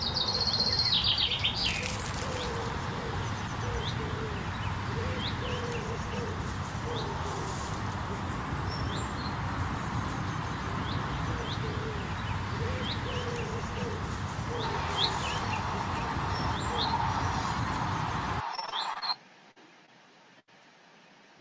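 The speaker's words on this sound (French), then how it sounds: "Voilà une petite vidéo sur le son des oiseaux" Small birds sing and chirp in a steady outdoor chorus, with bright repeated calls over a constant background hum for most of the stretch, then it falls silent near the end.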